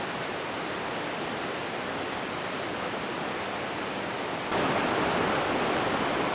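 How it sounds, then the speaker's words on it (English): Water at a dam near Thompson Falls, a steady, broadband roar of rushing flow heard up close without pause, growing slightly louder partway through. "You can hear the water rushing through."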